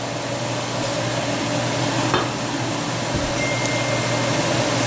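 Olive oil heats in a hot wok, giving a steady broad sizzling hiss with a faint background hum and one brief clink partway through, no voices.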